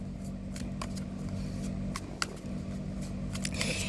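Tarot cards being shuffled by hand, a run of soft, close riffling and brushing swishes with a few sharper snaps, steady and unaccompanied by talk.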